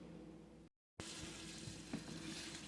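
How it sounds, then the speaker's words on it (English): A kitchen sink fills from the tap while greens are prepared for canning. The water makes a faint, steady rushing hiss with a brief break near the start. "I'm filling up my sink with water"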